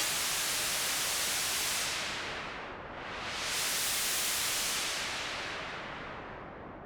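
Steady hissing synthesized white noise, made in Logic Pro, fills the clip, briefly dipping and dulling in the middle as the cutoff frequency is lowered, then opening back up to full brightness.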